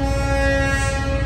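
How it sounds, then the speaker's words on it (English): A loud, steady, sustained train horn blast, heard alone. "With a train horn."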